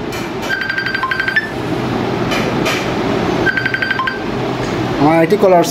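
A phone rings with repeated electronic tone bursts in two clusters, fairly loud and close, beside a running household background, and a short rising chirp at the end.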